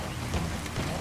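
Steady rain falls at night in Metal Gear Solid 5's African setting, a soft, continuous hiss and patter of drops with faint low rumbling, fairly quiet and alone.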